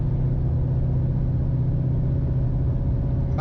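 Inside a car with a Tremec Magnum XL gearbox cruising in 6th gear around 2,000 RPM, the engine holds a smooth, steady low drone at constant loudness throughout.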